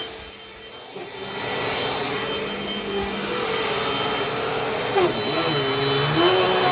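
A Dirt Devil Dynamite Plus vacuum cleaner runs steadily nearby with a loud motor whine and airy roar, its pitch wavering slightly as it moves across the floor, with no talking.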